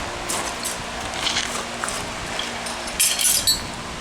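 Light metallic taps and clinks of a small hammer on stone during stone carving, several small strikes with a brighter, louder cluster near the end, close by.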